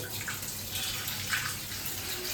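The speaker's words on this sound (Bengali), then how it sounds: "এই যে মাংস ধোয়া চলছে।" Meat being washed in a home kitchen under a running tap: a steady hiss of flowing water with faint splashes, close and alone.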